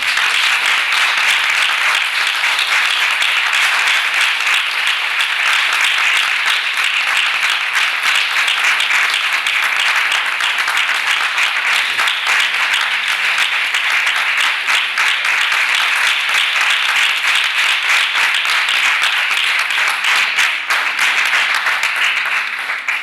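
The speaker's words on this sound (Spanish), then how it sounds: "vamos a recibirle con un fuerte aplauso." A large conference audience breaks into loud, sustained applause, a dense continuous wash of clapping that holds steady throughout with no speech over it.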